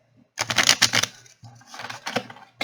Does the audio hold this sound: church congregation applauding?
no